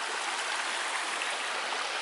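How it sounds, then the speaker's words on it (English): A small Highland waterfall pours down beside a tent pitched on level ground, a constant, close rushing of water that stays even and fills the whole moment with no voices. "There's the little tent on reasonably level ground, right by this waterfall coming down here"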